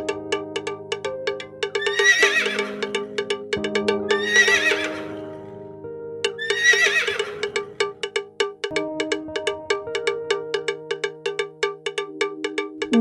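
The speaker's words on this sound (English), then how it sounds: "This is horse." Horse neighs three times over a bright, bouncy children's song with chiming cowbell-like notes, the whinnies loud and shrill against a steady melodic backing.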